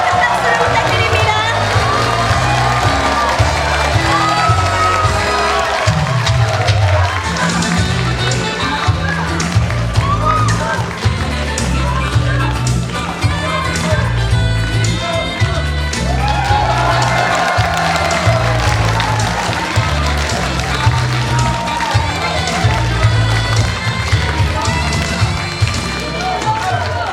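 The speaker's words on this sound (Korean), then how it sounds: "큰 박수 부탁드립니다" Audience at a political talk show greeting a lawmaker's entrance with loud, continuous applause, cheers and whoops. Music plays beneath, and a speaker's voice cuts in at times over the crowd.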